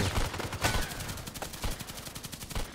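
Rifle fire in a shooting video game, a burst of sharp repeated shots with a loud crack near the start and further bangs spread across the clip, close and punchy.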